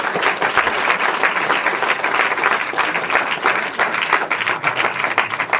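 Sustained, dense applause from a large audience at a film premiere screening, steady and loud throughout without letting up.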